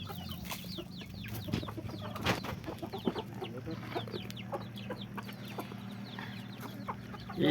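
A big rooster clucks in a village yard, with soft repeated clucks and scattered bird chirps over a low background hum, fairly faint and steady.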